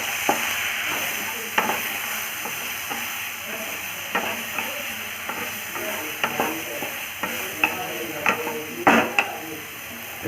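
Mushrooms with turmeric powder and salt stirred in a pan, a spoon scraping and clinking in uneven strokes over a steady low sizzle, close and clear with no talking.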